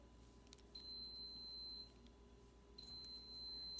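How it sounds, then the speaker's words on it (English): Two faint, sustained high electronic beeps sound in a quiet room, each lasting about a second with a short gap between, over a low background hum. "Sorry about the beeping."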